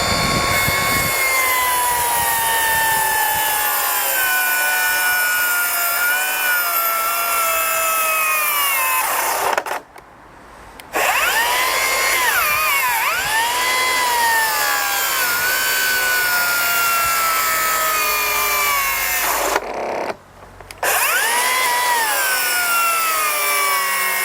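A Milwaukee M18 cordless saw on a Forge battery, plunge cutting and struggling to bite, gives a loud, steady motor whine whose pitch wavers under load. It cuts out briefly twice, then spins back up, with no voices.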